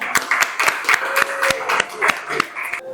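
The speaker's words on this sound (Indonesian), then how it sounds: "Oke, sip, tepuk tangan." Applause from an audience, sparse and uneven claps rather than a dense roar, lasting a few seconds with a faint tonal sound running underneath and cutting off abruptly at the end.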